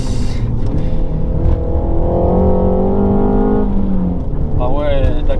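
A Renault Megane 4 RS Cup engine revs up hard from inside the cabin, its rising drone climbing steadily before easing off, while people talk excitedly over it.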